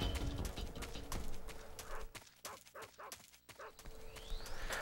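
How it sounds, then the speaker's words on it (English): Dogs barking and yipping in Metal Gear Solid 3: Subsistence, repeated sharp barks over a busy game soundscape with clopping footsteps, some whimpering mixed in, fairly close and steady throughout. "Oh, great. Dogs."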